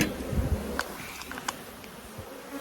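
Honeybees buzz softly around a hive, a faint steady hum with a few brief closer fly-bys.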